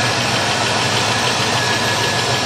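A small block Chevy 350 V8 with a Holley carburetor and a new intake runs in a 1984 Oldsmobile Delta 88, giving a loud, close, steady rumble with an even throb and no talking.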